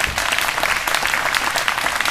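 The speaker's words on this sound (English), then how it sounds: "Y'all give our chairman a great round of applause." Loud, close applause from an audience greeting a chairman at a political gathering, dense crisp clapping filling the whole stretch.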